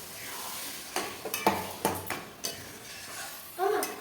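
Mutton being stirred and sautéed in a pot with a little spice water, a home kitchen cooking goat meat curry; intermittent scraping and clanking of a spoon against the pot over a faint sizzle, with several distinct clattering strokes.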